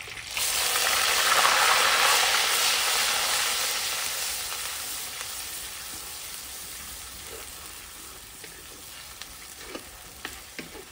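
Grated onions hit hot spices in a pan for aloo matar, a loud sizzle that swells at first and then slowly settles, with occasional stirring clicks and scrapes, no voices.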